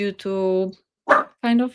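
A dog at home gives a few short, loud, tonal barks and yelps in quick bursts, mixed with a person talking nearby.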